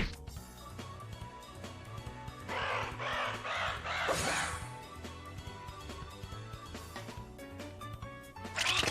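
Bird cawing during a battle in the video game Trails in the Sky: harsh crow-like caws over continuous game music and battle effects, with a louder burst in the middle and another at the end.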